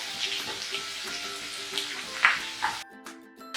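Chopped garlic sizzles and crackles in hot oil, a steady frying hiss with occasional stirring clinks, ending in quieter crackling.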